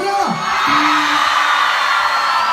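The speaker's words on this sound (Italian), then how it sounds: "Voglio sentire l'urlo di Barra!" A live concert crowd in Barra yells and whoops loudly in a sustained roar, with a voice rising over the mass of cheering at the start.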